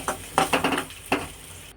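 Spice mix with grated coconut being fried and stirred in a pan, with a low sizzle under several scraping strokes of a spoon against the pan, close by and moderately quiet.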